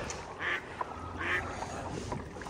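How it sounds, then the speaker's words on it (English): Ducks quacking in a few short bursts from near a kayak on the water at Hernando Beach, Florida, set against steady outdoor background noise with no talk. "Got some ducks over here chilling."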